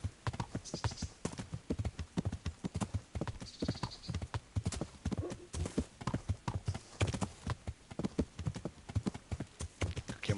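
Horse hooves clip-clop steadily at a riding pace through a wooded stretch in the video game Kingdom Come, a dense, continuous rhythmic patter of close, moderately loud hoofbeats with no talking over them.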